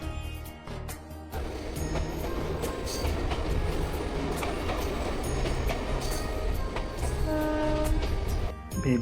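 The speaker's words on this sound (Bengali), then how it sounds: "আমাদের ট্রেন তার যাত্রাপথের সেকেন্ড স্টেশন ভেদিয়াতে পৌঁছালো" Passenger train pulling into Bhedia station in West Bengal, rumbling wheels and clattering carriages close by, with tonal horn or brake squeals rising over the steady rolling noise.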